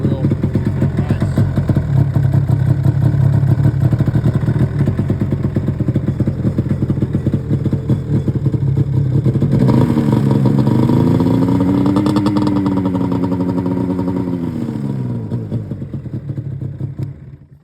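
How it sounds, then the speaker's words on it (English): A cold snowmobile engine idles steadily and loud right after a one-pull start, its two-stroke-style rattle continuous throughout and easing near the end, with a voice talking over it midway. "One pull. Oh, nice. So you can see it's a little smoky from being cold. Starts up real nice."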